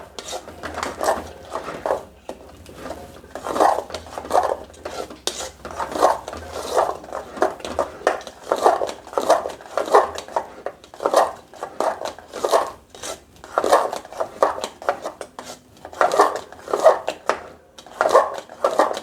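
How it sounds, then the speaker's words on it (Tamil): Sweet pongal being stirred after jaggery is added to cooked rice, a spoon scraping and knocking against the pot in a steady repeated rhythm, close and fairly clear with no talk. "இப்போ வெல்லத்தை போட்டு கிளற வேண்டும். நன்கு கிளற வேண்டும்."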